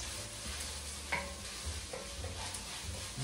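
Garlic frying in a hot pan for a kale broccoli cheddar soup, a steady close sizzle with faint stirring scrapes and a few light clinks, no talk.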